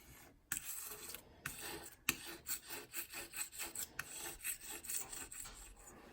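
A scraper scrapes grime off a ceramic cooktop in repeated rasping strokes, steady and rhythmic, close and fairly quiet, with short pauses between passes and no speech.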